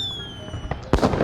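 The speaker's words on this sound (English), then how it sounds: "fireworks" Fireworks burst into a loud, close crackling boom near the end of a short stretch, following a quieter ambient tone and a faint earlier pop; the celebratory blast fills a night sky after a first dance.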